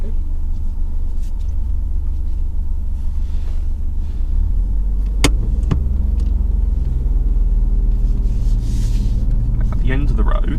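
Inside a car on a driving test, a steady low engine rumble and road noise build gently as it pulls away from a stop, with a person speaking over it.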